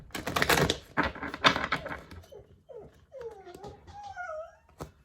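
A dog whimpers and whines in rising, squeaky cries after a burst of clattering noise, close by and moderately loud.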